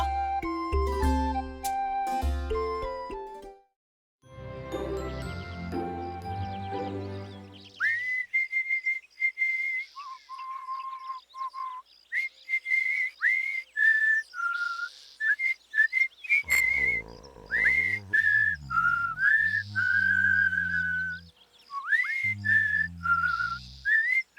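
A bright whistled melody of sustained, sliding notes, preceded by a short musical passage, carrying on steadily near and clear with brief pauses between phrases.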